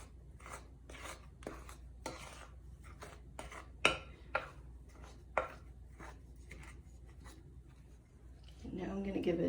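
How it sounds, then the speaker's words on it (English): Dry play dough ingredients are stirred together in a bowl, making a series of soft scraping strokes with a few sharper knocks, while a faint voice talks near the end. "Now I'm going to stir that together. This is all our dry ingredients."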